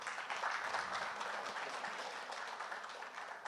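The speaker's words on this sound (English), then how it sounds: "welcome everyone with great applause" A crowd at an entrepreneurship conference applauds, a steady, fairly quiet and distant wash of many hands clapping that continues evenly for a few seconds.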